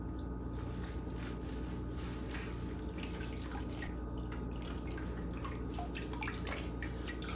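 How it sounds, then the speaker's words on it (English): Strawberry juice is squeezed out of a knotted straining bag for homemade wine, producing soft squishing and a steady patter of drips and trickling liquid close by, faint and without speech. "And then we're going to squeeze as much juice out of this as possible."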